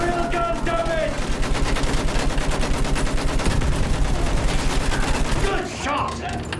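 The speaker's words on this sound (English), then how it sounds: "Shoot that field gun, damn it!" Battlefield 1 combat roars with sustained rapid machine-gun fire and field gun blasts, dense and loud throughout, with shouted voices faintly mixed in early on before the firing thins out at the end.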